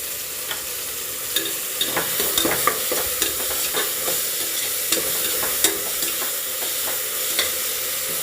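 Tomatoes with mint and coriander leaves sizzle in a pan for a fish biryani, with a steady close frying hiss and repeated scraping clicks as the mixture is stirred.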